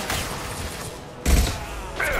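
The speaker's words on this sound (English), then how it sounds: "Ow, space bullets still hurt, by the way." Muffled gunfire bursts from the sci-fi shooter game Mass Effect 2, a heavy thumping volley landing midway with a second burst near the end, set against a steady background hum.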